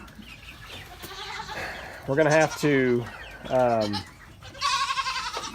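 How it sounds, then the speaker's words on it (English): Goats in a barn lot bleat several times in loud, wavering cries, close by, with chickens clucking around them and a person speaking briefly at the start. "And the goats think they're starving, which is quite annoying."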